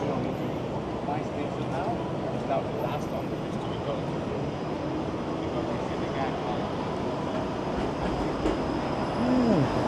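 A Toronto streetcar rolls along Carlton Street on a hot, muggy evening, a steady low rumble of rail traffic under city noise with a faint wheel squeal near the end.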